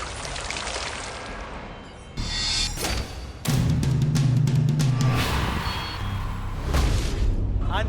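A contestant plunges into water in a big splash during an obstacle-course competition, a loud broad burst of churning water that swells and lingers amid crowd noise and commentary.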